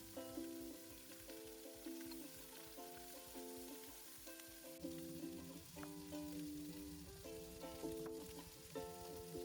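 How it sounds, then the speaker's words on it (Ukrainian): Chopped onions sizzle and crackle steadily in duck fat in a pot over medium heat, a continuous frying hiss with bright popping, while a faint tonal hum runs underneath. "А в ту ж каструлю з жиром додаю подрібнену цибулю і злегка обсмажую її на середньому вогні"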